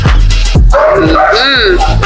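A dog barks and yips close by at a roadside food stall, giving a few short whining barks mixed in with loud nearby talk and street noise.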